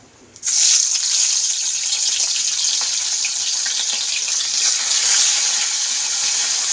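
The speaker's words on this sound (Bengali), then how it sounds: "তো এই যে তেলটা গরম হয়ে গেছে, এবার মাছগুলো ছেড়ে দেব" Amodi fish dropped into hot oil, an abrupt burst of bright, crackling sizzle after a brief quiet moment, then a loud, steady frying hiss that continues evenly to the end, with no talking.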